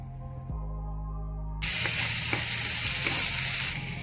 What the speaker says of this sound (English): I'm just going to go in and add my pepper, onion, cloves, and some garlic. And I'm going to cook this for at least 2 minutes